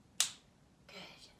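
A single sharp finger snap, close and crisp, played as a 'pop' in a children's dance lesson based on George's Marvellous Medicine, followed by quieter shuffling and movement noise.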